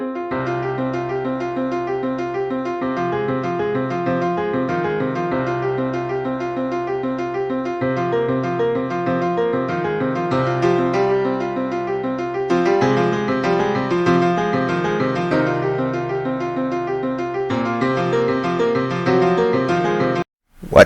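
Music from the Rod Bloggin' Warfare map album plays steadily and loudly, a layered electronic track with repeating bass patterns and bright melodic lines, cutting off abruptly at the end.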